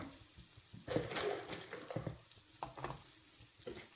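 Black raisins frying with other ingredients in a pan for a sweet poha stir-fry, faint sizzling broken by scraping stir strokes and soft clatter, irregular and close, with no voices.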